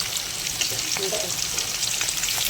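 Fish fries in a pan with a dense, continuous sizzle and hiss close by, steady throughout with no voices.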